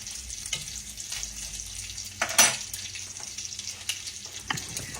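Steady sizzling of blueberry pancake batter frying in a hot pan, with occasional clinks and scrapes of a utensil against the pan.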